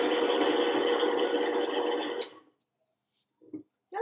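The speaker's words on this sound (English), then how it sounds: "And now we're going to go to the blender and just grind these bananas up with the brown sugar." A blender grinds bananas with brown sugar in a loud, steady whir for about two seconds, then cuts off abruptly, leaving near silence with a couple of faint knocks afterward.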